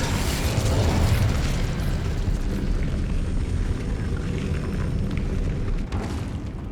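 The Incendio fire spell in Hogwarts Legacy bursts out as a dense whooshing roar of flame, loud and close. It sustains for several seconds with crackling, mechanical rattles layered in.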